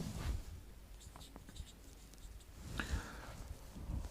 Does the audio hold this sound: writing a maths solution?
yes